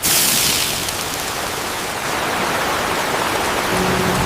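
Heavy rain pours down in a steady, dense hiss that stays loud and unbroken throughout.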